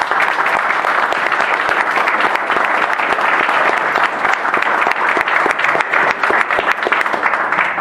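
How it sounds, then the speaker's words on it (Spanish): Audience at a club assembly in La Plata applauding to welcome a speaker, loud dense sustained clapping throughout. "con un aplauso lo recibimos"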